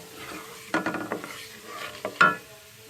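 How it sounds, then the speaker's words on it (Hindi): Sliced onion goes into hot oil with cumin seeds and is stirred, giving a few sharp clattering stirs and brief sizzle bursts over a low steady hiss, close by with no talking. "इसमें मैं प्याज डालूँगी।"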